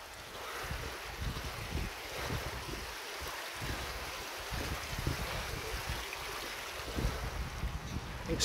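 Water gushing in a continuous heavy roar from a major burst water pipe on a hillside road in Burnley's Ightenhill area, a steady, close, broadband rush with no pauses.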